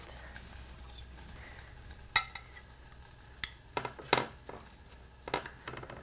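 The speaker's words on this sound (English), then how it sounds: "open up our George Foreman and pull our steaks out and cut into them" Flat iron steaks lifted from a George Foreman grill and cut on a plate: a faint sizzle underneath, with scattered sharp clicks and scrapes of metal tongs and a knife against dishes, and no voices.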